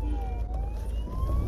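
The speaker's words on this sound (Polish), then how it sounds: "Jechała karetka i musieliśmy szybko się usuwać z miejsca." An ambulance siren passes in a busy indoor-outdoor mall setting, its wailing tone sliding up and down at moderate distance over a dense wash of background noise.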